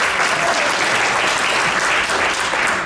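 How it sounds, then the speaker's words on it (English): An audience at a positive aging event applauds, a dense, steady wash of clapping from many hands that holds at an even level for a few seconds with no voices over it. "look at that, applause."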